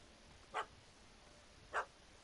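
Two short, faint yips from a puppy in a video game, about a second apart, over a quiet background hum.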